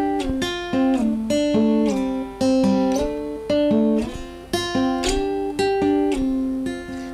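Acoustic guitar picking the opening intro of a song, bright plucked notes in a steady lilting rhythm with regular chord strums, close and clear with no voices.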